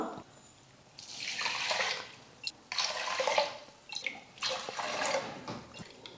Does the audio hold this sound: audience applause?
no